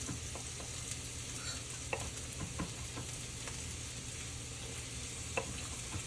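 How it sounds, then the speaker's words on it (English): Bacon frying in a Dutch oven gives a steady, close sizzle with scattered small pops and crackles throughout, and no voices over it. "And then the bacon, you just pop it in there."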